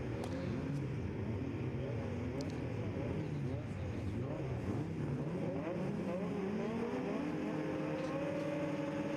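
Several autograss race cars roar continuously as a race starts on a dirt track, engines revving and rising in pitch, loud and sustained throughout with faint crowd and background noise.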